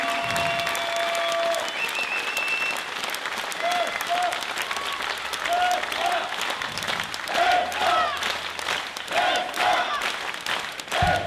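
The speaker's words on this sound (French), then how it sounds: "Vesna Toli, je voudrais qu'on l'applaudisse" Audience applause at a women's handball club (HBCC) season event, a dense, steady clapping that fills the whole stretch with brief voices and cheers rising through it.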